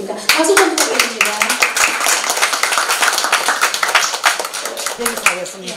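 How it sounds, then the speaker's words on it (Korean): An audience at a small memorial gathering claps steadily and briskly throughout, sharp hand claps close by with a voice speaking briefly at the start. "박수 좀 부탁드립니다."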